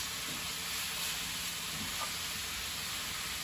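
Flank steak browning in a pan with garlic powder and spices, giving a steady, close sizzle and hiss that holds evenly throughout with no talking.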